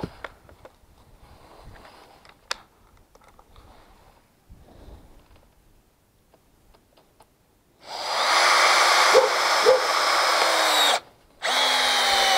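A Hitachi DV18DCL2 cordless drill bores into a block of hardwood: after quiet handling noises, the motor kicks in loud and steady for several seconds, briefly stops, then whirs again.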